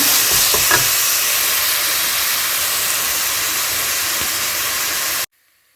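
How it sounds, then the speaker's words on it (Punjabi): Tinde (round gourd) and onion roast in a pan with a steady, close, loud sizzle and hiss, broken by a few faint clinks of stirring, before stopping abruptly near the end. "ਇਹਨਾਂ ਨੂੰ ਇਦਾਂ ਇਹਨੂੰ ਭੁੰਨ ਲੈਣਾ"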